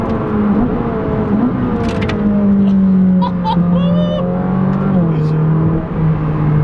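Ferrari 458 Speciale V8 engine with wheel spin, a close, loud, sustained roar whose pitch moves up and down through revs, heard from inside the car with someone talking over it.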